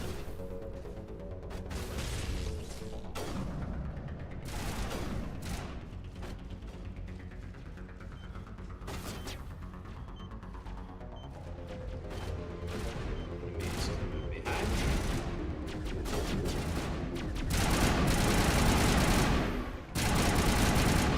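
Assault rifle fire in the video game Mass Effect, with loud, rapid bursts of automatic shots that go on almost without a break, along with game clatter and impacts.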